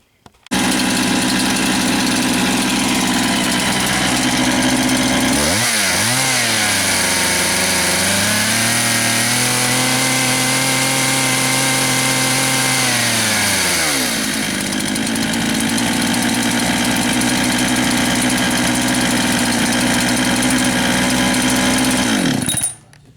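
A rebuilt Husqvarna 395XP chainsaw runs after its carburetor rebuild. It idles loud and close, revs up and holds high for several seconds, drops back to a rough idle and then cuts off, with no talking.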